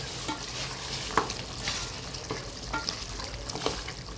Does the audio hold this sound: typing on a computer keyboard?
no